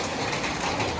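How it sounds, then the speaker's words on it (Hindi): Rain falls as a steady, even hiss, with no talking during the brief stretch. "ये देखो बारिश भी हो रही है एकदम"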